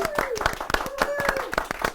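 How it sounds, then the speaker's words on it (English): Scattered handclaps from a small audience for a kindergarten class's first-place science fair win, about seven distinct claps in a loose rhythm, with a voice talking over them. "Let's give them a round of applause."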